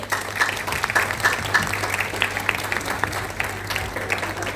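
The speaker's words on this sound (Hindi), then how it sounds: "तो आप सबकी भरपूर तालियों में रमीशा खालिद।" An audience claps steadily in sustained applause, a dense crackle of many hands that continues without pause.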